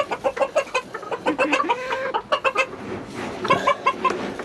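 Hens clucking in a coop, a lively, close chorus of repeated clucks and short calls, fairly loud and continuous, with no talking.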